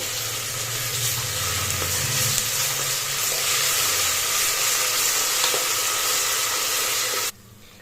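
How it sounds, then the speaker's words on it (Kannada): Ginger garlic paste frying in a pan for Udupi hotel-style veg pulao, a steady, close hissing sizzle with faint stirring that cuts off abruptly near the end. "ಇವಾಗ ನಾವು ಶುಂಠಿ ಬೆಳ್ಳುಳ್ಳಿ ಪೇಸ್ಟ್ ಹಾಕ್ತಿದ್ವಿ ಹಸಿ ಹೋಗೋವರೆಗೂ ಚೆನ್ನಾಗಿ ಫ್ರೈ ಮಾಡ್ಕೊಳ್ಳಿ"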